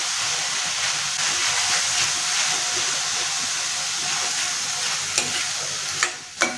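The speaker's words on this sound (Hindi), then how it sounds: "अब इस कंडीशन में हम डाल देंगे ये पनीर। और इसे अच्छे से मिक्स कर लेंगे।" Paneer is stirred and fried in a pan for bhurji, a loud, close, steady hissing sizzle with faint scraping, ending in a couple of sharp clanks of a spoon against the pan, no speech.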